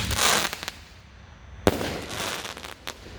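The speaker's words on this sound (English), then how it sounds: "Okay, we got Power Storm by America's Greatest Fireworks, 5-inch shell." A Power Storm 5-inch canister firework shell from America's Greatest Fireworks bursts outdoors, giving a loud crackling blast, a sharp pop partway through and a fading rumble afterward, with no talk.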